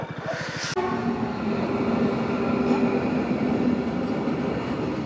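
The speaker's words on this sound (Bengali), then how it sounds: "মাল গাড়ি যাচ্ছে এত রাত্রিরে।" A freight train rumbles steadily past a level crossing at close range at night, wheels clattering on the rails in a continuous low roar.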